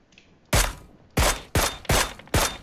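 Gunfire in the battle-royale game PUBG: five sharp, loud shots spaced roughly half a second apart, each with a short ringing decay, over a quiet background.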